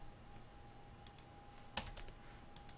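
Quiet, close computer keyboard presses, a Ctrl+C shortcut, with a few soft clicks and one slightly sharper key tap over a faint steady hum.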